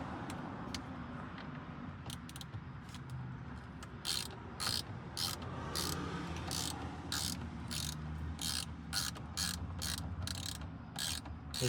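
A ratchet driving an Allen bolt on a 10th gen Honda Accord steering wheel, quiet at first, then rapid rhythmic clicking bursts repeating steadily up close, no talk.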